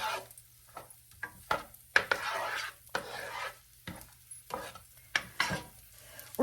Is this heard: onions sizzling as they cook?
yes